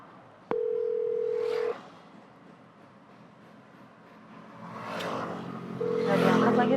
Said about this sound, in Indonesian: Aku mau telepon Raya, Mas.